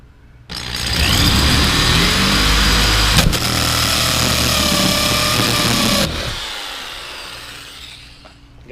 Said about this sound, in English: So we'll take the hole saw, get it centered on the circle that we just drew.